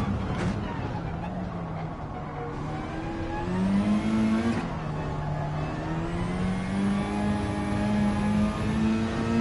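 A race car engine in the Gran Turismo 7 video game climbs steadily through the revs, pausing briefly at upshifts, loud and continuous under a faint high whine.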